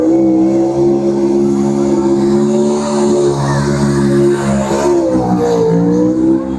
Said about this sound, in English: I don't know what they did, but that's a race motor